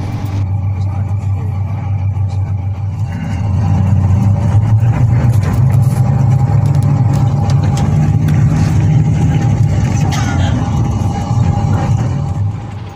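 An Agra Mas VIP class bus travelling from Jakarta to Wonogiri turns onto the Pantura national road, its engine droning steadily and loudly with a low rumble that rises slightly as it pulls away, and a voice talks over it.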